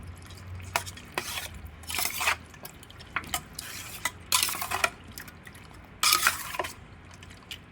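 Chicken pieces being mixed with spices and a little oil for Andhra chicken gravy, wet squelching and clinking stirs in bursts with short pauses, close up and fairly loud, no talking.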